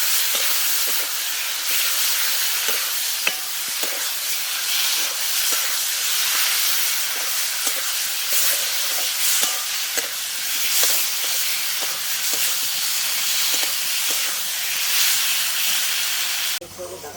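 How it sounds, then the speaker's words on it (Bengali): Ginger paste, green and red chili paste and coriander powder sautéing in a pan for an egg curry give a steady, loud, hissing sizzle that runs unbroken and then stops abruptly at the end. "আদা বাটা কাঁচা লঙ্কা পাকা লঙ্কা বাটা ধনে গুঁড়ো ভালো করে কষিয়ে নেব"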